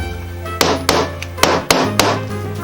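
Nearby hammering rings out in sharp, loud wooden-sounding blows, about six irregular strikes over a low steady hum, with no one speaking.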